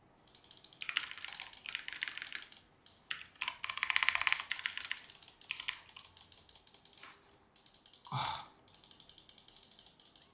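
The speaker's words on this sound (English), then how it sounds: "I'm using a Razer Black Widow V4 keyboard." Close mechanical key clatter from a Razer BlackWidow V4 gaming keyboard during a League of Legends match, coming in dense bursts of rapid clicks with short pauses and one brief whoosh near the end.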